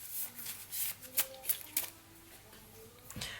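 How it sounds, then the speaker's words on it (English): A tarot card deck is shuffled by hand in a quiet room, giving soft close riffling and flicking bursts in an uneven rhythm, with no talking. "Let's go to another part of the deck and do a little shuffle."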